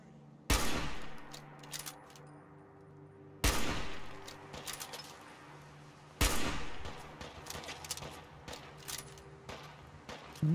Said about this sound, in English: He's hitting me with a little fucking pistol.